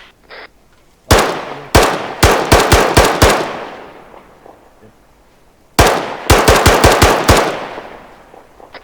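Machine gun fire in the military shooter game ArmA 3: two loud, close bursts of rapid shots, a short pause, then a second burst, each ringing out sharply with no talk over them.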